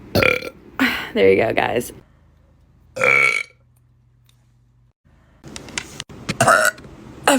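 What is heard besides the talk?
woman burping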